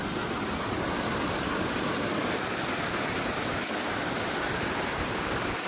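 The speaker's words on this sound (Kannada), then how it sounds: "ಎಷ್ಟು ನೀರು ಹೋಗ್ತಾ ಇದೆ." River water rushing beneath a bridge, a loud dense continuous roar of fast-flowing water filling the whole stretch with no talking.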